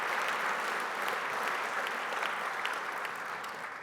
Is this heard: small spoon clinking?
no